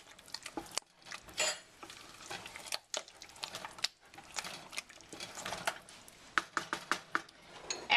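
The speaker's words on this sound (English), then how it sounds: "Mix it all up." A spoon stirs chicken stew in a pot with repeated scraping and clinking strokes against the sides, close and fairly loud, keeping an irregular rhythm for several seconds with no voices.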